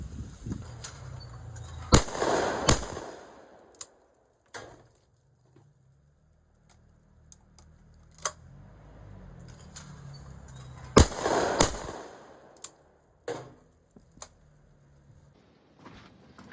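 Shotgun blasts at a clay-target range come as sharp, loud reports spaced several seconds apart, two of them especially heavy, with quieter clicks and handling noises between them outdoors and no voices.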